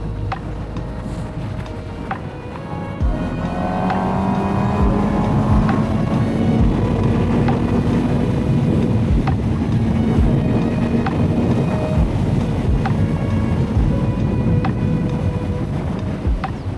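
Continuous engine drone and road noise from a moving motorcycle, with a rising tone as it accelerates and occasional clicks, steady and close throughout.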